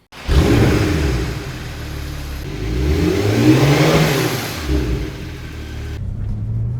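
A Porsche 911 Turbo S engine fires up and revs hard, rising and falling in pitch, then settles into a loud, steady rumble close by.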